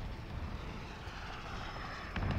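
A chopper gunner helicopter in the Modern Warfare Ground War video game drones steadily overhead, a continuous engine roar at moderate level with a brief louder burst near the end.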